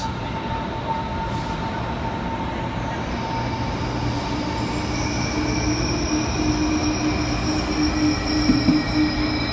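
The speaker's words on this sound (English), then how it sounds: "The right train. Here she comes." A train rolls steadily into a station platform, its rumble and rail noise building gradually, with a high wheel squeal rising toward the end.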